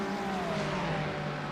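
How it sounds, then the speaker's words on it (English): Race cars from a racing video game at Silverstone stream past in a tight pack, a steady engine drone with a slowly falling pitch, fairly loud and continuous, no voices. "that's a big train of cars coming down"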